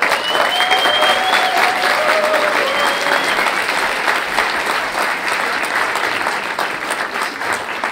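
Sustained applause from an audience at the Cannes Film Festival welcoming festival delegate general Thierry Frémaux at a tribute ceremony, dense and steady throughout with a couple of faint whistles early on.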